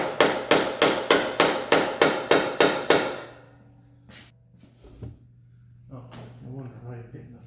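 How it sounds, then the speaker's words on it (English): Ten rapid, evenly spaced thuds as a dead blow hammer drives a socket extension against a seized axle on a Honda CB750 chopper, loud and close, followed by quieter shuffling, a groan and brief talk. "I might just keep dead blowing with the socket extension."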